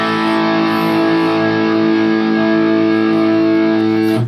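An electric guitar plays through a NUX Mighty Air wireless practice amp on its overdrive top-boost channel, a loud sustained distorted chord ringing steadily for about four seconds before cutting off.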